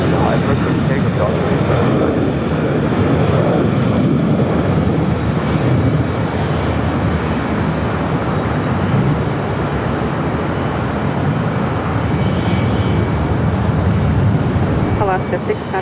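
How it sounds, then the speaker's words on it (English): A China Airlines Boeing 777 freighter takes off down runway 25 left at Los Angeles International Airport, a steady, broad jet roar that holds loud and continuous throughout, with a voice talking over it. "the China Airlines 777 freighter rolling down 25 left"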